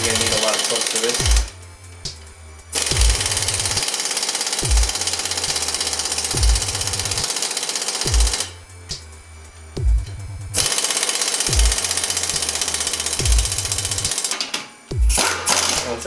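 A power tool hammers in loud rapid bursts as it tightens the lower strut bolts on a Scion Toyota, several runs of a few seconds each separated by short pauses, with a voice between them.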